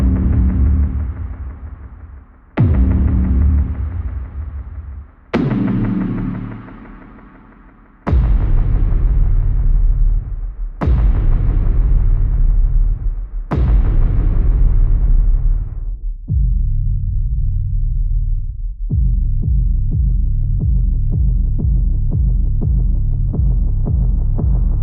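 A sequence of deep, booming sub hit samples from Soundpaint, each given a pitched treatment, about seven heavy sustained impacts fading out one after another, ending in a throbbing, pulsing low drone, loud and up close.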